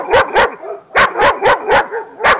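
Dogs, German shepherds at a police canine service demonstration, bark loudly and close in a rapid series of about eight sharp barks with short gaps between them.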